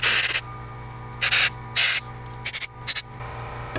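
Compressed air is blown through a Toyota engine block during a head gasket replacement, coming as about five or six sharp, loud hissing bursts of uneven length over a low steady background hum.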